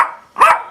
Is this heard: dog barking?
yes